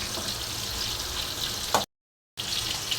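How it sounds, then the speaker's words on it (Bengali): Tilapia fish frying in a pan, giving a steady hissing sizzle that fills the frame before a brief dropout, with a faint clink just ahead of the gap and no voices. "এক পাশে মাছ ভাজা হচ্ছে, আরেক পাশে মোরগ"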